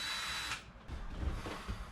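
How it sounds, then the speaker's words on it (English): A power drill bores a hole through the body of a van for a window installation, a close, loud, steady whine that dips briefly before the motor bites again with a rougher grinding tone. "I'm drilling out this hole for the other window."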